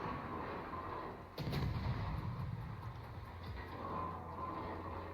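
Naval guns fire at a Smolensk cruiser in a ship battle game, one sharp heavy boom followed by rumbling echoes and a few fainter distant thuds, with no talk.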